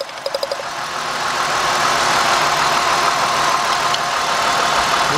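Car engine idling with an ignition misfire, steady loud rumble throughout after a few sharp clicks at the start, with a slight uneven beat in the running.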